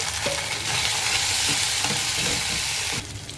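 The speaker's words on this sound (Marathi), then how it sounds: "कांदा माझा थोडा भाजत आलेला आहे।" Chopped onion fries in hot oil with ginger-garlic paste, curry leaves and green chili, a steady loud sizzle with soft stirring scrapes, ending in an abrupt shift near the end.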